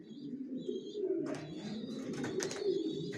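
Racing pigeons in a loft coo softly and close by, a low, steady murmur broken by a few faint chirps.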